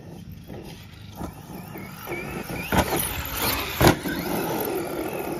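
A Traxxas E-Maxx RC monster truck's electric motor runs, with a thin wavering whine and a few sharp bursts of throttle and clatter over constant outdoor noise.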